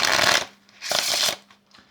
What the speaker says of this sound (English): If not, you need to riffle shuffle these cards.